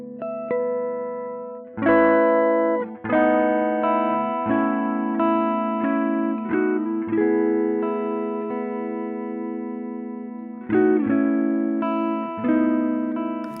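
An electric guitar run through saturation from Ableton 12's Roar device plays sustained distorted chords, each struck hard and then left to decay, with several restrikes and no talking.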